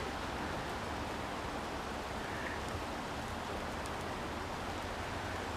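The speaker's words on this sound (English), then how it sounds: "it's rainy today" Steady rain falls in a willow swamp, a dense, even hiss of drops on wet surfaces and foliage that holds unbroken from start to finish.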